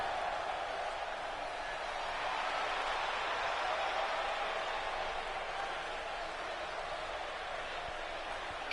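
A live wrestling crowd at an indoor show cheers and applauds in a steady, dense wash of noise that holds evenly for the whole stretch, fairly distant and moderately loud, with no single voice standing out.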